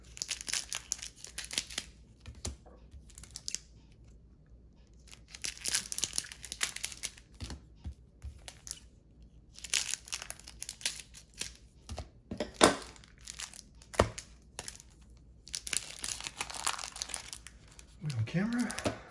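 Foil wrappers on 1992-93 Fleer basketball card packs crinkle and tear open in repeated bursts, close and fairly loud, with short pauses between them while people talk.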